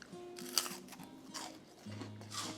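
Crunching of Duritos, a Mexican chicharrón de harina wheat snack, in a few crisp bites and chews, close and fairly quiet, with brief pauses between them.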